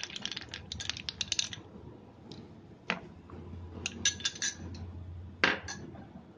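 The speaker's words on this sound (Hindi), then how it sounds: "अब इसमें आइस क्यूब डालेंगे" Ice cubes dropped into a glass of Rooh Afza lassi, giving several bursts of bright clinks and rattles, close and fairly quiet, with short pauses between drops.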